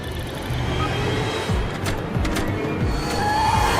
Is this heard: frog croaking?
no